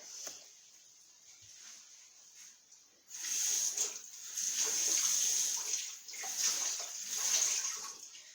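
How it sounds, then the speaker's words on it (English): A massive tablespoon is rinsed under a running kitchen tap. A faint trickle at first, then the water hits the metal and gets louder, becoming a steady splashing rush with uneven surges. No one speaks. "I'm just rinsing off my spoon because I only have one massive tablespoon"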